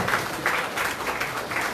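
Audience applause at a Korean political party appointment ceremony, a close, dense crowd of clapping hands holding steady throughout.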